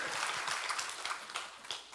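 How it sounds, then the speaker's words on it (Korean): Brief, faint applause from a church congregation during a Sunday morning service, a soft, steady wash of many hands clapping at a distance. "박수 한번 합시다"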